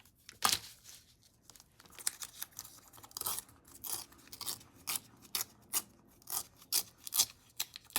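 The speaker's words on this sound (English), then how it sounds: "So I could just tear a single strip." A strip of paper bag being torn by hand in a crafting setting, heard as a series of dry, close ripping and crinkling bursts in an irregular rhythm, fairly quiet, with no talking.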